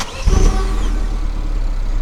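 A Peugeot 308 GTi engine fires up by push-button start, a short cranking burst that settles into a steady, close idle rumble with no talk.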